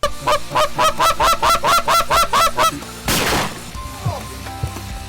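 Geese honk in a rapid rhythmic series during a waterfowl hunt, followed by a sharp crash of gunfire and quieter calls trailing off, outdoors and fairly close.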